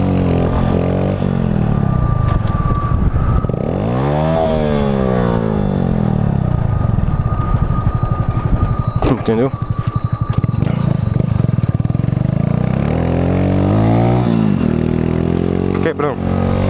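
A Honda Pop 110 motorcycle fitted with a new aftermarket exhaust idles loudly up close, with several throttle blips rising and falling, while someone talks over it.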